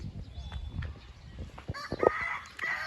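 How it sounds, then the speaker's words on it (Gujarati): A rooster on a rural farm gives a short, strained crow near the end, following low rustling and muffled handling noises, with a bright cluck-like note rising over the background. "કુકડા"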